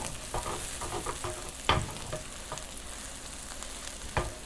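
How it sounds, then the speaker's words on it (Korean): Chopped green onion frying in a little oil in a heated pan, a soft continuous sizzle with a few sharp clatters of a utensil against the pan. "다진 파를 넣어서 네, 파기름을 먼저 조금 낼게요"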